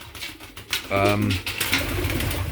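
Racing pigeons coo in a loft, a low throaty rolling call close by, with someone talking around it and a faint rustle in the background.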